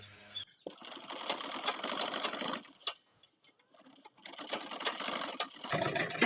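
Sewing machine stitches a blouse in fast, steady whirring runs close by, with a few short pauses, a near-silent gap in the middle and a restart at the end.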